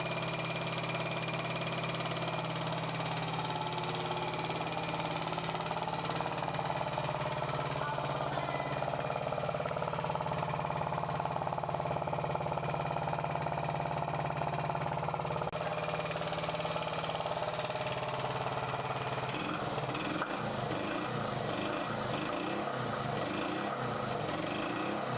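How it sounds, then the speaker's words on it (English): Old Honda CB 125 motorcycle engine running roughly after new spark plugs, a faint steady idle hum with uneven pulsing that shifts near the end, no talk. "After replace the spark plugs, the engine starts running like this."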